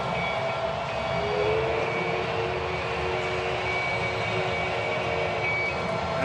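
A ballpark train runs at the Astros' stadium after a home run in a World Series game, a steady, droning rumble with a sustained whistle-like tone over continuous crowd noise, loud and unbroken.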